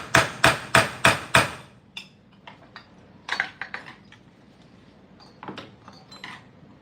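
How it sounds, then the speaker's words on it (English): A hammer strikes the flywheel of a Stihl 050 chainsaw during a teardown. Five sharp metallic blows come in quick succession, followed by a scattering of lighter, irregular taps and clinks. "That's a hammer."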